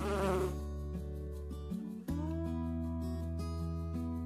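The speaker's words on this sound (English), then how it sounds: "all bees make a buzzing sound because of the quick movements of their wings while they fly" Honeybees buzz from rapid wing beats in a continuous droning hum with shifting pitch, a brief dip midway, then the steady buzz resumes close up.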